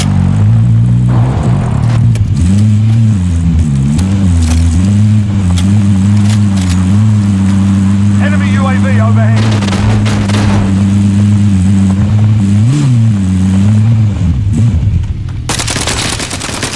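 A vehicle driven in Call of Duty: Warzone, a loud, steady engine drone with rising and falling revs, overlaid by bursts of machine-gun fire and clattering effects.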